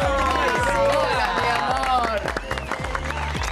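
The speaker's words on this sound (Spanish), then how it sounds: "Bueno, vamos, el aplauso para Alejandra Romero." A TV studio audience claps for a guest on an Argentine variety show, brisk applause running under a music bed, with voices and crowd noise mixed in.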